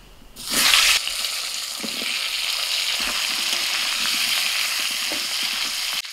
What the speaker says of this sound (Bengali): এবার ওই তেলের মধ্যে আলুটা ভেজে নিচ্ছি।